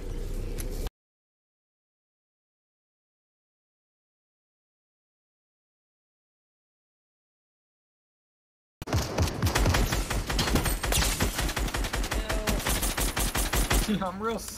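Rapid automatic gunfire in Fortnite rattles continuously for several seconds after a long silence, loud and close with dense repeated shots.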